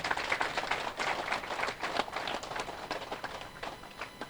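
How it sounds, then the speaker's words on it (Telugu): A crowd at a meditation hall opening event in Kannapuram breaks into louder, sustained applause, many hands clapping densely and evenly for several seconds before easing slightly at the end. "ఇంకా గట్టిగా కొడదాం."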